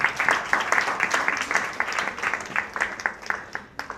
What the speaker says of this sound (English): So I think we have to give them a big applause for this.